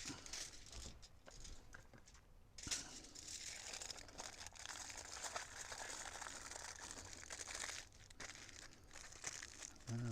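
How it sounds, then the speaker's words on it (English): Aluminum foil is crinkled and folded around breakfast burritos at an outdoor camp stove, close and fairly quiet, with continuous crumpling and a few sharper crackles. "I like to wrap them in foil if I'm going to heat them up in the oven."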